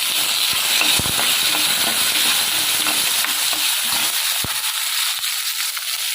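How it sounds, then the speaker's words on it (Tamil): Small onions and tomatoes sauté in hot oil for radish sambar, giving a loud, dense, continuous sizzle broken by occasional sharp pops and crackles, with no talking. "வெங்காயம் நல்லா வதங்கட்டும்."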